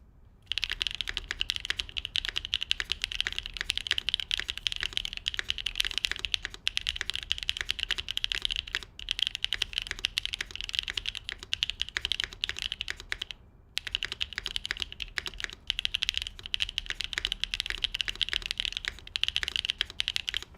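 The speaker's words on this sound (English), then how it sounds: "let's make some typing noises, shall we?" Fast, continuous typing on a custom-built Typeface Univers mechanical keyboard gives a dense patter of crisp keystrokes for about twenty seconds, broken by one brief pause partway through, close and fairly quiet with no talking.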